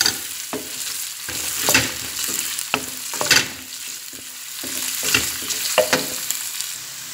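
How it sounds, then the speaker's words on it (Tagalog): Onion sautés in a pan before chicken is added, a close sizzle punctuated by repeated scraping stirs and utensil knocks against the pan, with no speech. "Isasautin natin guys ang ating sibuyas bago natin i-add ang chicken."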